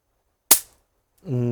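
A single sharp gunshot from a Marksman Repeater pistol in a video game, a loud crack that decays quickly, followed after a pause by the onset of a droning tone.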